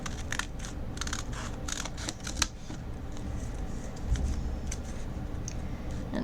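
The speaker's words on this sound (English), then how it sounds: "I'm going to cut those little folds off" Scissors snipping small paper folds off hand-made mini sketchbook pages, a run of soft crisp cuts and rustles close up against a steady low background hum, no talking.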